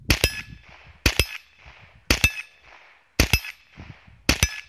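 A Ruger SR22 pistol fires cheap .22LR ammo at steel targets, five sharp, evenly spaced shots each followed by a bright metallic clang, loud and close with short quiet gaps between.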